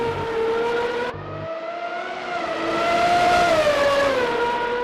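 A high-revving Formula 1 car engine from a video game, 1988–1991 era cars at the Australian round, drones steadily with a smooth pitch rise and fall, briefly dipping as it shifts, loud and continuous.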